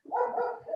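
A dog gives a single short, close bark with a bit of whine in it, loud and alone against an otherwise quiet room.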